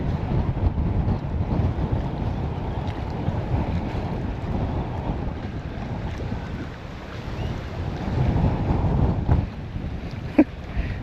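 Wind gusting across a fishing boat out on the water, with heavy buffeting rumble on the microphone and a faint wash of water beneath, loud and continuous with no talk.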